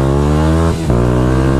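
A Hobbyking Durafly Excalibur RC plane glides past with the throttle off, a low rushing whoosh of air over the airframe, steady and fairly faint with no motor whine.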